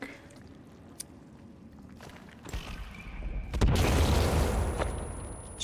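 A sticky bomb detonates in the survival game Sons of the Forest, a sudden deep boom that swells into a loud, rumbling blast after several seconds of quieter game ambience with a few small clicks and thumps.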